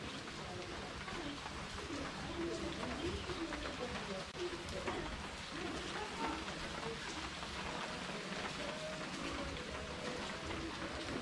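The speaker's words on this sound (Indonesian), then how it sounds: "Waktu hujan dari dalam kamar, men." Steady rain falls outside a hotel room at Amarta Hills Resort in Batu, a continuous hiss heard from indoors, with bird cooing and faint voices mixed in.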